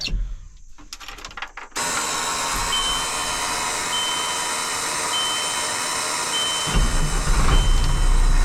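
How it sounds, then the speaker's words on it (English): A Ford L8000 truck engine cold starts after standing about two weeks: a brief cranking burst, then it catches and settles into a loud, steady diesel idle that swells heavier near the end. "We're gonna get in it, see how this thing cold starts."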